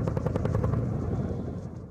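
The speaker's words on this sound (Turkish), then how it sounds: "kırsalında helikopter destekli operasyon başlatıldı" A military helicopter flies during an operation in rural Diyarbakır countryside, a dense low rotor rumble with rapid thumping that holds steady and loud for the whole stretch, without speech.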